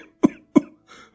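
Two sharp, loud coughs close together, each a single harsh burst with a short tail, followed by a fainter breathy exhale; a man's cough from pain and illness.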